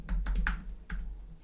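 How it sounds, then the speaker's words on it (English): Quick keystrokes on a computer keyboard, about four crisp clicks in a short burst with a pause before the last, close and fairly quiet, no speech. "I'm just going to type in one that I know of."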